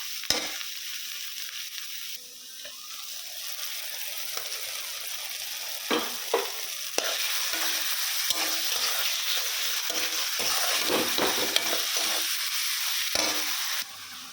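Chopped onion, tomato and green chili sizzle steadily in a hot pan, with occasional clattering stirs and scrapes over a constant frying hiss.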